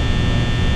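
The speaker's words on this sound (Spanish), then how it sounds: "es el ventilador, se escucha más que los animatrónicos" A steady electric fan hum runs unbroken and fairly loud through the whole moment, with no voices over it, heard while playing a Roblox remake of FNAF 1.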